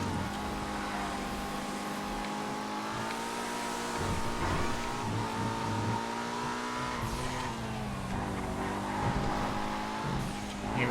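A ZR350 car in GTA FiveM runs a time-attack lap with its engine held at a loud, steady drone, pitch shifting slightly as it works through gears. Tire noise stays close and continuous throughout, with no talk.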